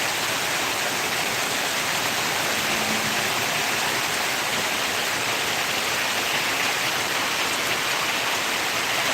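Torrential rain falls in a thick, constant roar, loud and even from start to finish like rushing water, with no pauses and no one speaking.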